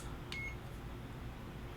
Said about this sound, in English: we had one beep and I can feel some air coming out.